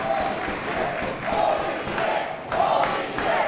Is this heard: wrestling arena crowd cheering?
yes